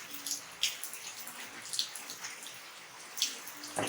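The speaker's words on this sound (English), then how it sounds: "Then rinse in the running water." Tap water runs while a baby feeding bottle is rinsed, a soft steady splash broken by irregular louder spatters and drips, with no speech.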